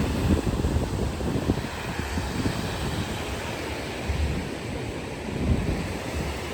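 Waves wash onto a beach in Bali, a steady broadband surf roar with gentle swells, mixed with wind buffeting the microphone, and no speech.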